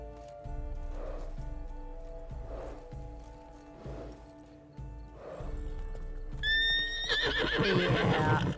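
In The Witcher 3: Blood and Wine, a horse snorts and shuffles with soft rhythmic hoof clops over a steady musical drone, then lets out a loud, shrill neigh near the end.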